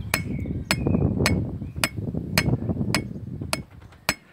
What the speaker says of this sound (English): So just hold it firm, and I have to strangle my hammer, hold it up here